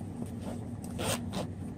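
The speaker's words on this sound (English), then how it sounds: "Whereas the Mumba case up top has this zipper." A zipper on a soft Mumba carrying case for a Nintendo Switch is drawn in a few quick, quiet scratchy pulls over a low background hum.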